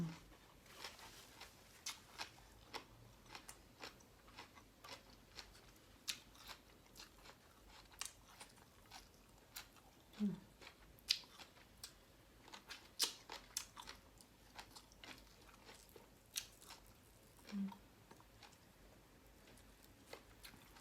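A person eats crunchy Thai papaya salad with young vegetable shoots, giving soft, irregular bites and chewing crunches close up over a quiet background, with no talking.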